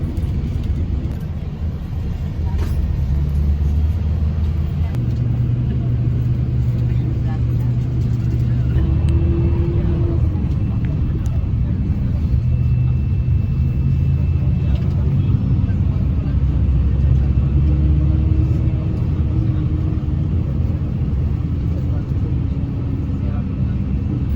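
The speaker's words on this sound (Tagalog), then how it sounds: "Kaalis na po itong bus." A bus pulls away on a night trip toward Quezon. Its engine gives a steady low rumble with shifting drone tones from a close interior position, and talk is faintly present.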